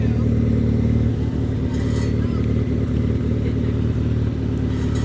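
A car engine idles roughly after a cold start, having earlier sounded like it was misfiring; a steady low rumble with uneven clattering pulses runs throughout, loud and close.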